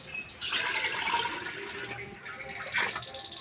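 Water pours steadily into a cooking pot for about three seconds, a close, moderately quiet splashing stream with a brief louder splash near the end.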